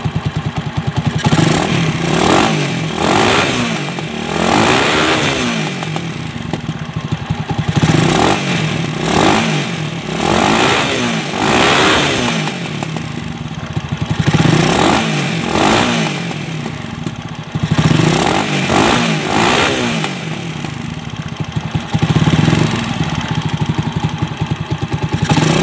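A motorcycle with a pushrod engine, fitted with a side-gapped spark plug and an adjusted air/fuel screw, is revved repeatedly, loud rising and falling engine surges over a rough idle with clattery mechanical rhythm and occasional exhaust popping.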